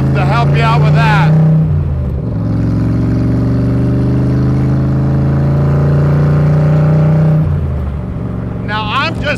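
1965 Shelby Cobra Factory Five roadster engine and exhaust pipes, a loud deep rumble that rises in pitch as it accelerates and holds a steady drone, with someone talking at the start and end.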